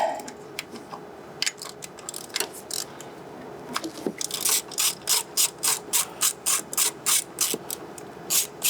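A ratchet wrench loosening 10mm bolts on a fuel line bracket of a 100 Series Land Cruiser, scattered clicks at first, then a close, rapid run of rhythmic ratcheting strokes.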